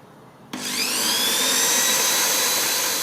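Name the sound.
electric drill drilling holes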